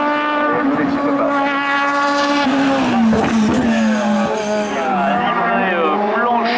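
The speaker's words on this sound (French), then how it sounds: "Livrée blanche et dorée, voiture anglaise, reconditionnée dans son intégralité par la famille Bonâtre" A restored white and gold English racing car runs in a 2018 hill climb race at Hébecrevon, its engine droning steadily with a rising and falling pitch under a commentator's continuous talk.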